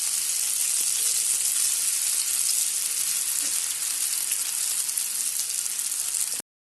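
Paneer tikka pieces fry in hot oil, giving a steady, dense sizzle that holds at an even level for the whole stretch and then stops abruptly, with no voices.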